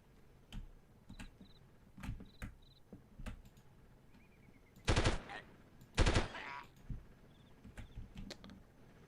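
Gunfire in the 1998 Delta Force video game rings out against a sniper: two loud, close bursts of shots over a backdrop of scattered clicking keys and faint beeps.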